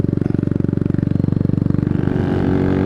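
A motorcycle engine chugs loudly up close with a fast, even pulsing beat, then the note smooths and climbs as it pulls away for a short ride around the block.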